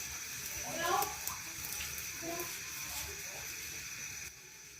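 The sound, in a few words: water running from a tap over charred tomatoes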